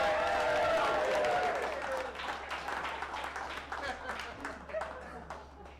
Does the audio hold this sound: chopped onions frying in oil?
no